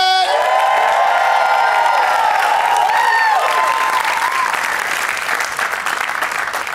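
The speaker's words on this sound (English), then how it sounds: "That's why you guys started clapping before I even said Los Angeles." A theater audience at a comedy show at Largo at the Coronet in Los Angeles breaks into loud, sustained applause with scattered cheers and whoops, filling the room before slowly thinning.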